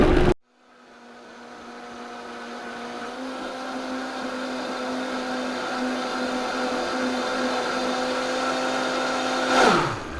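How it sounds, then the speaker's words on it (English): A Vitamix blender churns a thick mixture with a steady, loud motor whine. A sharp start is followed by a gradually rising, sustained drone with stable harmonic tones, then a brief surge just before it cuts off. "So I've started blending and I can see that it's definitely going to be too thick."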